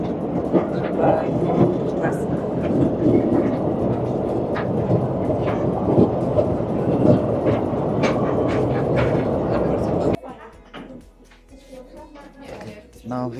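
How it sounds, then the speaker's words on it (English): A mine trolley train carrying about 80 people rumbles and clatters steadily along its rails in the underground Bochnia Salt Mine, Poland, for several seconds, then the noise drops off abruptly to quieter sounds and faint activity. "We are almost like 80 people sitting on this trolley train."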